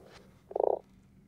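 A frog gives a single short croak, a quick rattling burst of about half a second, fairly close against a quiet background.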